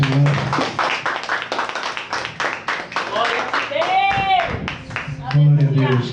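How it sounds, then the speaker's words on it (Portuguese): Church congregation clapping in praise during a Portuguese-language worship service, a steady run of hand claps mixed with voices, singing or shouting over it throughout. "E as palmas louvem ao Senhor."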